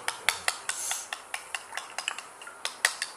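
A metal spoon scrapes and clinks against a pot while milk cream is stirred together, a dozen or so sharp close knocks in an uneven rhythm with no talk.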